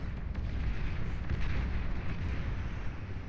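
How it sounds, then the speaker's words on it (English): Recluse rocket units in Beyond All Reason firing away at long range, a dense continuous rumble of launches and distant blasts that stays steady and loud for a few seconds with no voices. "There go the Recluses, though, firing away at full range, and those rockets do travel miles"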